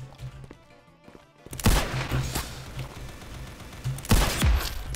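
Revolver gunshots in the video game Counter Blox, two sharp loud cracks about two and a half seconds apart, each followed by a brief tail, over faint game background noise.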